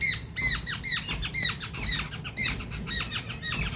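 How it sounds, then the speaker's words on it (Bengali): A pet bird calls in a hoarse, cracking voice, giving a rapid series of harsh squawks in short bursts, close to the microphone and fairly quiet, with no talk over it. "পাখি ডাকলে পরে গলা ঠিক মতো বেরোয় না"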